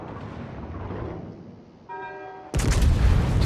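Secondary battery guns on the Odin battleship firing in World of Warships, a muffled rumble followed by a brief tonal horn-like blare, then a sudden loud booming burst of gunfire.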